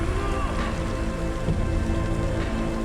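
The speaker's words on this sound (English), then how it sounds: "Does this rain ever stop?" Steady heavy rain pouring during a scene set in feudal Japan, a dense continuous hiss with low rumbling underneath, constant and close with no talking.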